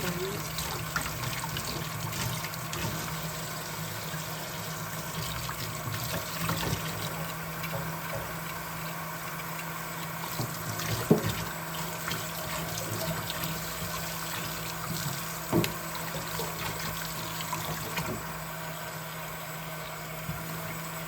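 Fresh ginger is washed under a running kitchen tap, with a steady close stream of water hissing and splashing throughout. Occasional bumps and clatters come from the sink as the root is rubbed clean, and a voice speaks intermittently underneath.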